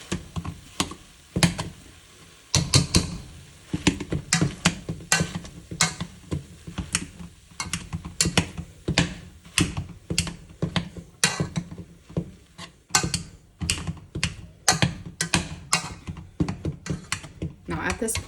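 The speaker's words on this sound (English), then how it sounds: "I'm gonna mash these. And keep your heat on low while you do this." Potatoes being mashed in a pot over low heat, heard as a long series of sharp, irregular clicks and knocks from the masher striking the pot, fairly close and steady throughout.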